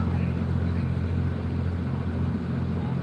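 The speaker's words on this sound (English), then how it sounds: "Yeah, it's running, but it sounds pretty rough." A trophy spec race truck's engine drones loudly at the 2021 Baja 1000, running rough with an uneven low rumble as it passes close by, steady throughout with no clear voices.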